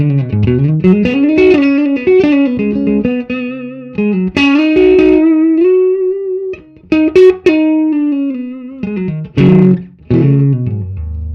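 Clean electric guitar from a Stratocaster played through a Two Rock Classic Reverb Signature amp with no reverb, with ringing chords and single-note lines full of harmonics, close and loud, with brief pauses between phrases.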